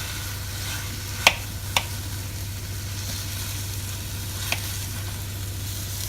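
Chicken cooks in a pan with a steady, close sizzle and frying hiss, a low constant hum beneath, and a few sharp isolated pops or clinks.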